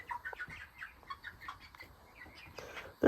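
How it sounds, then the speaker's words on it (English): Chickens let out of the coop cluck and chatter softly in a loose, irregular string of short calls, faint and close by. "So I got 2 new chickens to the flock."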